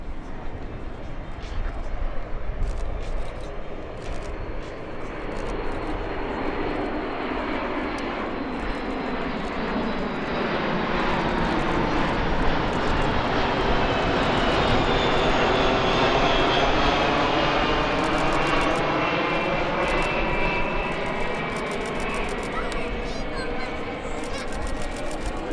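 A KC-135R Stratotanker and a C-17A Globemaster III from the 97th Air Mobility Wing fly a display at EAA AirVenture Oshkosh 2023, their loud jet roar sweeping and building past mid-pass before easing off.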